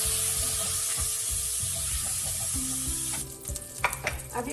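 Prawns seasoned with salt and turmeric fry in oil in a pan, a loud, close sizzle for about three seconds that then gives way to clinks and scrapes of a utensil against the pan.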